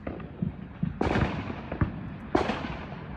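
Neighborhood fireworks on the 4th of July, two loud sharp bursts about a second apart, each followed by crackling that fades, over a steady background of scattered distant pops.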